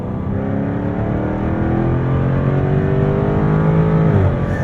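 A 2024 Jaguar F-Type R75 sports car engine roars steadily as it accelerates, pitch climbing through the gears with a brief dip near the end, loud and close.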